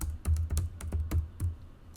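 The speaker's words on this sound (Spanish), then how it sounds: "y tecleamos" Search terms typed on a computer keyboard, a quick uneven run of close, crisp key clicks with short pauses between bursts.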